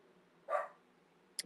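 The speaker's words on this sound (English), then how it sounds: "I hope you guys can hear me over my dog barking." A single short dog bark sounds indoors at moderate distance, followed a moment later by a brief sharp yip, with nothing else in the quiet room.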